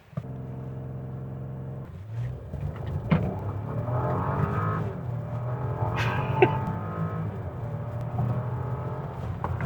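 Audi Q7 2025 facelift luxury seven-seater SUV in dynamic mode doing a launch-control run from 0 to 100, the engine steadily building from a low steady drone into a rising, revving surge of acceleration with shifting pitch, heard up close.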